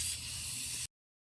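Shop air blasting out the bolt holes on a car's ABS brake assembly, one steady loud compressed-air hiss lasting under a second and cutting off abruptly into silence.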